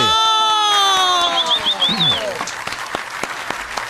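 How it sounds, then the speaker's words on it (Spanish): A loud, drawn-out vocal exclamation opens, and scattered clapping follows as an audience applauds retired general Gustavo Matamoros during an interview. The claps are sparse and become more distinct toward the end. "Un fuerte aplauso"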